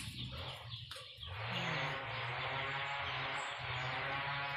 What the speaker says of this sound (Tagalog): May manok siya oh.